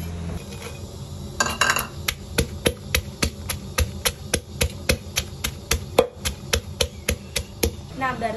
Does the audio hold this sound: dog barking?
no